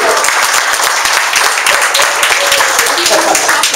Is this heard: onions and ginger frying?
no